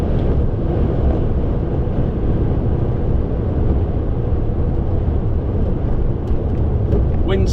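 Steady, dense roar of wind buffeting a lorry cab hauling an empty curtain-sided trailer, a constant rumbling rush with no breaks, loud and close throughout.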